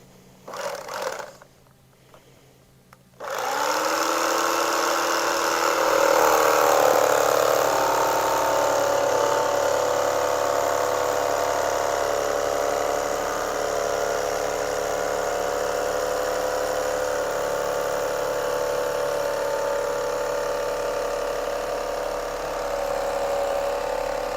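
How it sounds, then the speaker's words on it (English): An electric knife cuts straight downward through carpet padding in a living room, giving a steady close electric buzz that runs for over twenty seconds after a brief start. "I can use the electric knife to just chop it straight downwards"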